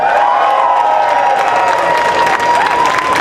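Loud crowd cheering and clapping at a Justin Trudeau election rally in Mississauga, Malton, a steady wash of applause and shouts throughout.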